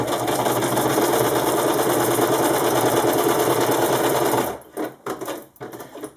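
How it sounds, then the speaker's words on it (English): A sewing machine stitches around the whole perimeter of a layered wing-style mag pouch with Velcro. Its loud, steady, close whir runs for about four and a half seconds, then cuts off, leaving a few faint handling clunks. "we're pretty much just going to go and do a stitch all the way around the entire perimeter"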